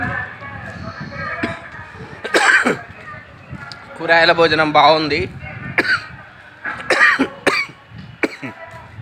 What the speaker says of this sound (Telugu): ఏమో దగ్గు బాగా వస్తాను